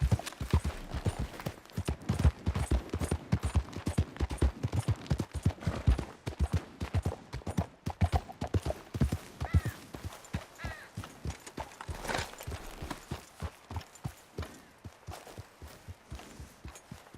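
Horse hooves pounding at a gallop in Red Dead Redemption 2, a fast, loud, rhythmic clatter of hoofbeats running steadily and close with no talk over it.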